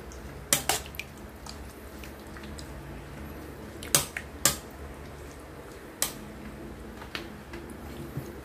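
Pork tapa being hand-mixed with its marinade ingredients gives off faint, sparse wet clicks and squelches, a few sharper snaps standing out over a quiet, steady background.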